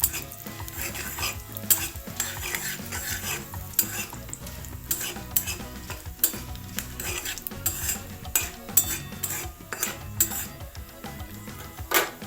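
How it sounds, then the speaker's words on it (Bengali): Five-spice seeds frying in hot oil while a spoon stirs and knocks against the pan, bringing busy crackling and sizzle with frequent metallic clinks and scrapes throughout. "5 ফোড়ন আমি এখানে দিয়ে দিচ্ছি। ভালো করে একটু তেলের সাথে ভাজা ভাজা করে নেব।"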